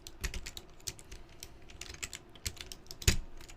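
A Matias clicky switch with its keycap is worked loose from an Alps plate on a resin-cased keyboard, producing a run of close, irregular plastic clicks and taps that ends in one sharper snap.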